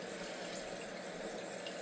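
A toilet tank refills through a newly replaced fill valve, the main water supply opened only slightly, giving a steady, even hiss and rush of running water with no break.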